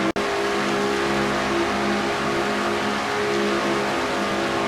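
Onboard roar of Tori Gossett's Quaker State Ford stock race car, a loud, steady engine drone at high revs with layered harmonics, holding constant after a brief dropout at the start, with no talking.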